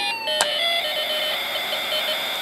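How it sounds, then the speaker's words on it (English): A Snap Circuits alarm IC sounds a shrill electronic siren tone together with a music IC melody, loud and continuous after a brief click at the start. "we're getting both the music and the siren sound effect kind of together there from the music and alarm ICs"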